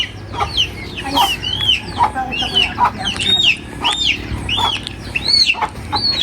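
Chickens and chicks cluck and peep nearby, a busy overlapping stream of short rising cheeps and clucks repeating every half second over a low murmur.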